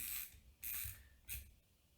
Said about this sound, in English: Go ahead and cock the shutter one more time.